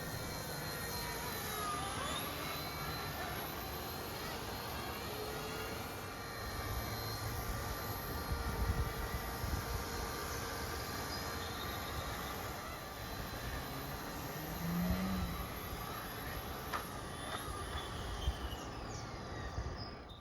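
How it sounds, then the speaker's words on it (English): A small RC ERA C138 Bell 206 toy helicopter buzzes steadily, its high-pitched whine of rotors and motor drifting slightly in pitch as it hovers around nearby. "just fun to fly it around and experiment with your practice and orientation of this fun little helicopter"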